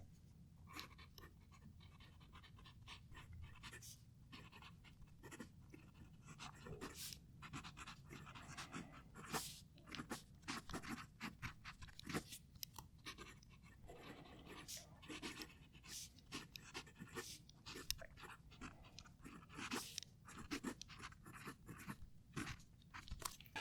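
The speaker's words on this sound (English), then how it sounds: "as I'm writing, we've got the whispering, but we've got that little bit of a sing-song behind it as well" A Leonardo Momento Zero Grande fountain pen with a stiff nib writes across paper, a quiet close scratchy whisper of strokes with faint light taps and pauses as letters form, fairly continuous.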